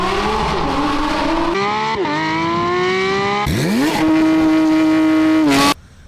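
A Porsche Taycan 4S electric motor gives a Dyson-like whine, a tonal hum that climbs in pitch through repeated acceleration pulls, loud and close, with tyre and road rumble underneath before a sudden drop.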